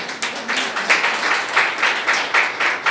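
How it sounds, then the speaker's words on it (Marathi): An audience at a welcome ceremony claps in a rhythmic, fairly sparse burst, individual claps clearly distinct and moderately loud for a few seconds. "तुमच्यासाठीच खरंच एकदा जोरदार अशा टाळ्या होऊया"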